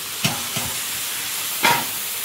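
Ash gourd frying in oil in a pan, a steady soft sizzle broken by a few sharp bursts of spatter and stirring, close and without talk.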